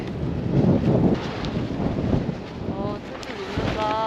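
Strong wind at a snowy mountain campsite on Seonjaryeong ridge buffets the microphone in a roaring, gusting rush, close and fairly loud, with a few faint voice sounds near the end.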